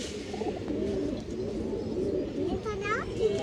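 Silver baagha khaki pigeons give low, throaty coos near at hand, partly under someone talking and some background chatter.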